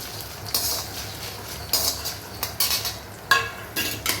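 A spoon stirs and scrapes through mint, dried red chillies, urad dal and ginger being lightly sautéed in a pan for mint chutney, making irregular close clinks and scrapes over a faint sizzle, with no talk.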